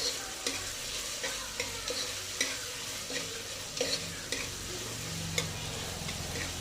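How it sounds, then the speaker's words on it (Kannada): Ginger-garlic paste frying in hot oil, giving a steady close sizzle broken by repeated clicks and scrapes of a spoon stirring the pan, with no voices. "ಶುಂಠಿ ಬೆಳ್ಳುಳ್ಳಿ ಪೇಸ್ಟ್ ಸ್ವಲ್ಪ ಇದು ಎಣ್ಣೆನಾಗೆ ಫ್ರೈ ಆಗಬೇಕು"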